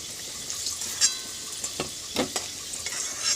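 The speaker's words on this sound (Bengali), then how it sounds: "তা আলু ভাজা হয়ে গেছে দেখুন" Potatoes frying in a pan make a continuous hissing sizzle punctuated by several sharp scraping clicks of stirring and turning, close and moderately loud, with no speech.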